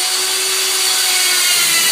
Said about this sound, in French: faire les trous avec ma perceuse